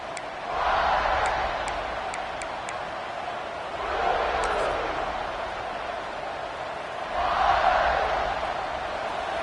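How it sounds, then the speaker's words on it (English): A home crowd at an American football game roars in three distinct surges, each rising and fading back into a constant stadium murmur. "this home crowd is fired up and ready to make a difference today"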